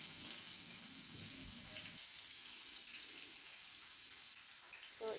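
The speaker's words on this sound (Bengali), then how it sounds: "তো এরপর আমি দিয়ে দিচ্ছি কুচি করে রাখা পেঁয়াজ।" Chopped onion dropped into hot oil with whole cumin in a pan, a steady bright sizzle of frying that dips slightly after a brief stir, continuous and close.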